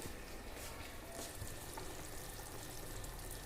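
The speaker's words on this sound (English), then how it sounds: "This is boiling." A pot of chicken stock bubbles and hisses steadily at close range, a dense continuous simmer with no voices.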